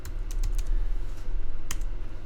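A computer keyboard is struck for a shortcut, a few sharp close key clicks early on followed by a single crisp press near the end, with no voices.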